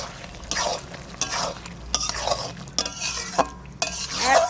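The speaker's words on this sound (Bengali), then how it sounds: "লাউয়ের জল দিয়ে লাউ রান্না হচ্ছে" Bottle gourd simmering in its own released water in a pan, stirred with a utensil that makes repeated close scraping and soft sizzling strokes, with no voices.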